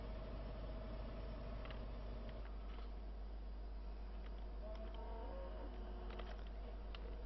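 A tractor engine runs in the Farming Simulator 15 farm game, a constant low drone with a steady idling rumble that shifts slightly while the machine moves off, heard alone.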